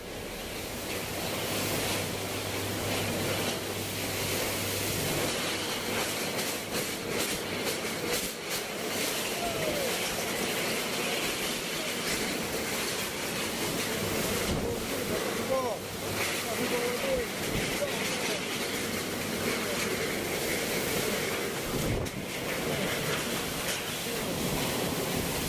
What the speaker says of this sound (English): heavy rain and wind pounded the blossoming Indonesian city